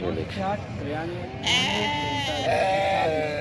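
A lamb bleats repeatedly at a crowded livestock market, its wavering calls close and loud over a busy background of people talking.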